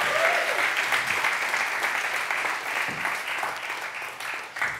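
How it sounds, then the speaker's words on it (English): A church congregation claps in praise, a dense and steady wash of applause that fills the space, with scattered voices and shouts faintly underneath. "give God a hand clap of praise"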